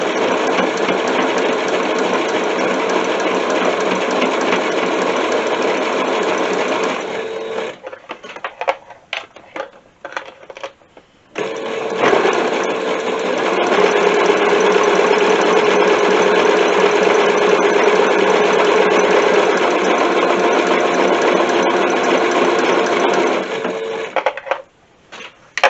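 Sewing machine zigzag stitching across two joined textile pieces, a fast, steady mechanical whirring clatter in two long runs separated by a short pause with a few stop-start bursts, close and loud.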